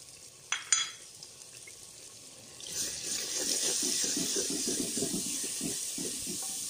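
Chopped tomatoes tipped into a pan for chicken korma, with a couple of sharp clinks, then a steady, moderate sizzle and stirring scrapes that carry on without speech.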